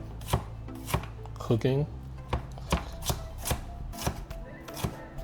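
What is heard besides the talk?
chopping peppers and onions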